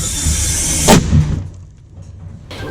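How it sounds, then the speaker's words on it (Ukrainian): One heavy artillery blast booms sharply nearby, followed by a brief rumbling echo that fades into quiet. "Постріл!"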